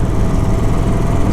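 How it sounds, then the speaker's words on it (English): A 2021 Harley-Davidson Sportster 48 motor running with plenty of mechanical clatter, a loud, close, steady engine chatter without talk. "There's a lot more mechanical noise coming from the motor"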